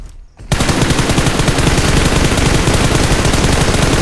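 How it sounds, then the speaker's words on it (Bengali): Rapid automatic gunfire in a video game starts after a brief quiet moment, then runs as a loud, close, unbroken burst of fast rhythmic shots to the end. "আন্তাজি ফায়ার করতেছে"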